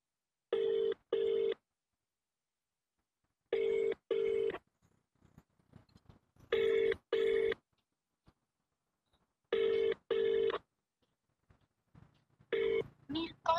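Outgoing phone call to an MLA, with paired electronic ring tones repeating about every three seconds, clear and moderately loud, while a voice talks quietly between the rings.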